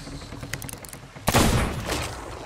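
Gunfire in the pirate video game Sea of Thieves: a sudden loud blast halfway through, followed by a sustained rumbling crackle of shots after a quieter stretch of low background noise.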